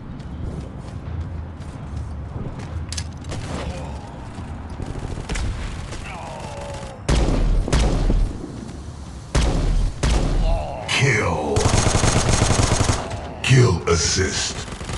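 Rapid automatic gunfire bursts and single shots from the mobile shooter game Guns of Boom, loud and near, with explosions and game effects in between, repeated fusillades dominating the latter half.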